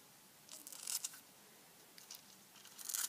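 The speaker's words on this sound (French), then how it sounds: "je vais découper avec mes petits ciseaux" Small scissors snipping multicolored nail foil, a few short crisp cuts in quick bursts, close and quiet against a faint background.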